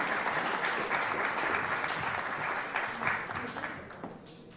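A hall audience at a Kashubian recitation contest claps in a sustained round of applause, dense and even at first, then gradually thinning and fading toward the end.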